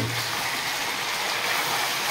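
Water drains off washed raw chicken in a plate or pan, a soft, steady splashing trickle that is faint and continuous with no talk over it.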